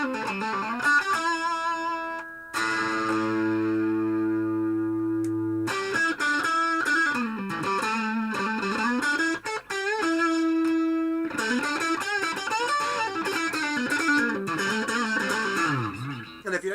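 An electric guitar with a single-coil pickup on a green Madmalko multiswitch guitar rings out with sustained notes, chords and a few sliding pitch bends, loud and close with short breaks between phrases.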